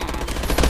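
Rapid gunfire in Call of Duty: Advanced Warfare, a short dense burst of shots lasting under a second, close and loud with a heavier thump near the end.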